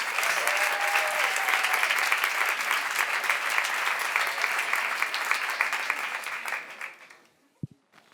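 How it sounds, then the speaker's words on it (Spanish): At a talk, an audience bursts into loud, steady applause for speaker Fernando Díaz Villanueva, many hands clapping together before it fades out, followed by a brief thump and near silence. "Un fuerte aplauso para él"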